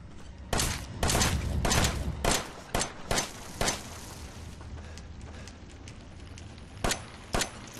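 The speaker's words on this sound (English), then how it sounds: "Okay, just keep shooting." Gunfire in the horror video game Resident Evil 7, a series of loud, sharp shots in irregular bursts, some clustered close together and others spaced apart, over a low background rumble.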